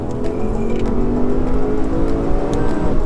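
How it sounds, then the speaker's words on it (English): A Lexus RC F's high-revving 5-liter engine drones loudly and close, holding a steady, rising engine note with no talk over it. "Once I discovered the magic of this high-revving, screaming 5-liter engine."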